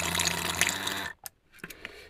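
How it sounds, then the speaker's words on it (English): Milk whey from a foaming soap pump pouring into a sink, a steady splashing stream that stops abruptly after about a second, followed by a few scattered drips and small sounds. "I'll just drain this out a little bit."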